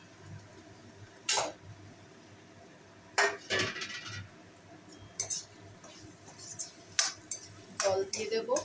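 Potatoes tumble into a metal cooking pot while dal with paneer and drumstick stalks is being made: several separate clinking, clattering knocks spread out over a few seconds, close by and fairly sharp, with no talking.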